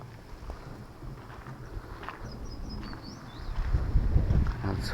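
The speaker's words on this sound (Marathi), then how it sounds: "आज भरपूर वारा आहे." Strong wind buffets the microphone on the walls of Ajinkyatara hill fort in Satara, a low roaring rumble that swells and grows louder toward the end, with faint distant sounds beneath it.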